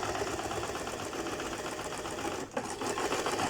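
A sewing machine sews a trouser pocket seam with a continuous close mechanical whir, briefly dipping once before resuming at an even pace.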